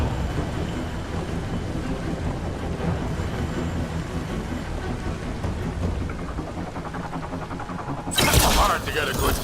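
Steady rain pours down in a video game, a dense continuous hiss throughout, with a sudden louder crashing burst near the end that may be thunder or gunfire.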